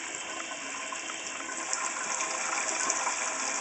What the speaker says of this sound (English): I'm going to let the hot water run for a few minutes and soften the glue